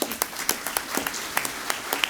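Applause at a maritime leadership awards ceremony, sparse and uneven with distinct individual claps popping out over a thin background patter, moderately loud.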